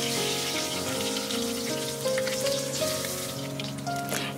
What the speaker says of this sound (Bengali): এখন আমি এই তেলের মধ্যে আলুগুলো একটু ভেজে নেব হালকা।